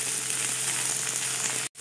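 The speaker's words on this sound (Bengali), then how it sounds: "এখন কিন্তু শুধু সবজিগুলোকে ভাজছি" Mixed vegetables fry in a pan, cooked without onion or garlic for a festival offering dish: a loud, even hiss that cuts off sharply just before the end.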